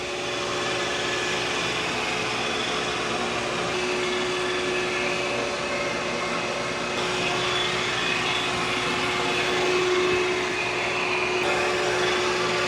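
A robot vacuum and mop combo on a deep-clean pass across the floor gives a steady, close, whirring drone with a constant tonal hum and little variation.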